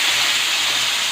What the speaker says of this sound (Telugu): ఇప్పుడు ఇంకా చికెన్ వేసేసుకోవాలి.